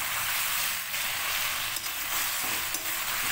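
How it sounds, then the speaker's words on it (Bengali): Chicken and potatoes fry with spices in a hot oily pan, being stirred and browned for chicken kosha. A loud, continuous close sizzle runs throughout, with faint scrapes of stirring and no talk. "এবার চিকেন আলু একেবারে ভালোভাবে কষিয়ে নিচ্ছি"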